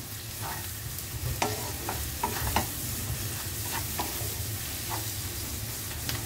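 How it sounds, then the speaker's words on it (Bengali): Chicken being mixed with spices in a pan, a continuous low sizzle under repeated scraping stirs and occasional sharp spatula clicks, close and steady. "তো এইভাবে খুব ভালোভাবে মিশিয়ে নিতে হবে।"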